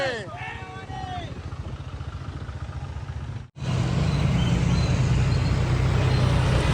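A tractor carrying a Durga idol chugs steadily nearby with a low, rhythmic thrum, broken by a short dropout midway, while voices talk over it.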